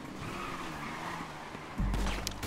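A motorcycle in the video game GTA V speeds off as engine noise and tire skids hum steadily, then a louder burst of squealing and roaring cuts in near the end.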